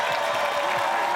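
A live crowd at an American Ninja Warrior qualifying event in Los Angeles cheers and claps for a competitor, a steady dense roar of voices and applause throughout.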